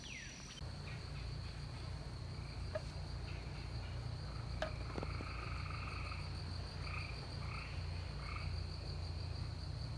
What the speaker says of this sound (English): Some kind of frog, I think.